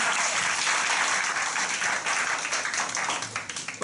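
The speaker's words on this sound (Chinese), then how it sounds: "给我一个掌声好吗？" An audience at a startup pitch night breaks into dense, steady applause that fills the room, with many hands clapping at once and tapering slightly near the end.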